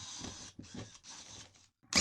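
A small power drill pre-drills holes for self-tapping screws during a van wall build, whirring in several short bursts, fairly close and quiet, with brief pauses between each run.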